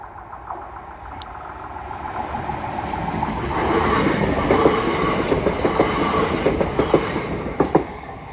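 A train passes Aylesford village level crossing in Kent, a steady rumble building to a loud, close roar with rhythmic clickety-clack of wheels over rail joints toward the end.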